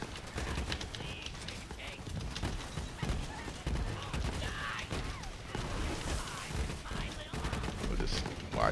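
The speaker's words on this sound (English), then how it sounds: "We're gonna turn around and shoot, shoot, and swap" Borderlands 3 gunfire from a Zane speed run of the Trial of Cunning: dense, near-continuous volleys of shots and explosions layered over busy game sound, loud and relentless throughout.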